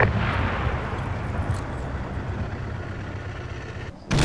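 Artillery fire and a heavy explosion in the Arma 3 military game, a sustained rumbling roar that fills the clip at close range, with a low booming bed, ending in a sudden dropout and a sharp burst.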